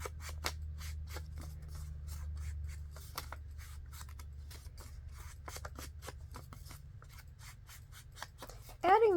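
Scissors snip through paper to cut out a small pole piece for a hinged journal pocket insert, a steady run of close, crisp cuts with a low hum underneath.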